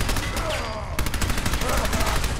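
Rapid gunfire in the video game Fallout 4, a dense string of sharp repeated shots rattling close and loud for a couple of seconds.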